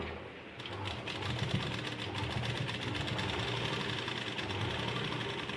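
A sewing machine stitches a heavy Rajputi lehenga in one continuous, fast mechanical whir with a steady rattling rhythm, close and even throughout.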